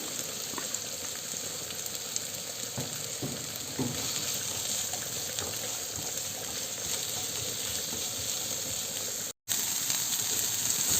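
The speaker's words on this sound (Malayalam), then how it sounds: "ചെമ്മീൻ വറുത്ത അതേ പാത്രത്തിലേക്ക് ആ ഓയിലിലേക്ക് തന്നെ നമുക്ക് അരിഞ്ഞു വെച്ചിരിക്കുന്ന സവാള ചേർത്ത് കൊടുക്കാം" Two medium sliced onions sautéing in leftover prawn-frying oil in the same pan, a steady crackling sizzle with occasional stirring scrapes, close and constant, with one brief dropout near the end.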